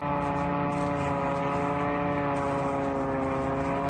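A drone's engine roars overhead in a sky over Tyotkino, a steady, loud, sustained propeller drone with stacked harmonic tones that holds unbroken throughout.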